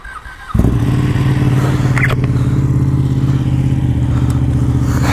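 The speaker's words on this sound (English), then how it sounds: "It's a mean sounding Panigale" A Ducati 899 Panigale motorcycle engine catches and settles into a loud, steady, rumbling idle close by, running evenly without revving and with no talk over it.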